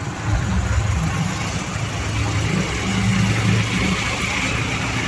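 A motorbike engine drones steadily on an early-morning ride along an empty Mumbai road to the Bhaucha Dhakka fish dock. The low rumble and road noise stay constant and close throughout.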